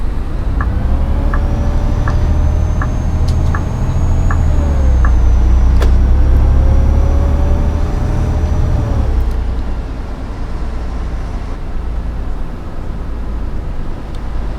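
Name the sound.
Volvo B7TL ALX400 bus driving in OMSI video game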